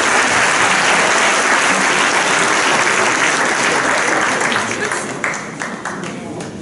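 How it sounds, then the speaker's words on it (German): An audience at a children's carnival royalty ceremony in Düsseldorf bursts into loud, sustained applause that thins out and fades toward the end, leaving scattered claps. "Einen dicken Applaus."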